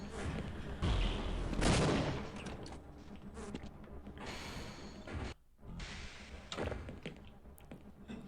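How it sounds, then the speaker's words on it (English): Automatic SMG gunfire in the video game Half-Life, loud bursts of rapid shots clustered early and recurring through the stretch amid game noises, with no talk. "He opened the door and then we fire an SMG"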